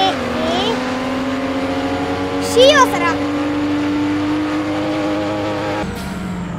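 A Toyota Supra race car in Roblox drones at a steady engine pitch that rises and sweeps in places, carrying on under a speaking voice.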